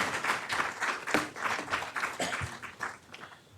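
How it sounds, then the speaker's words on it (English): Audience applauding a panel of global health leaders, a moderate burst of many hands clapping that starts full and gradually thins out over a few seconds. "How about another round of applause for the panel?"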